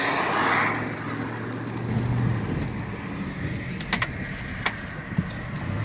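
Car driving along Highway 171 toward Mansfield Road in Caddo Parish: a steady interior road rumble with faint ticks and small jingles, and no talking.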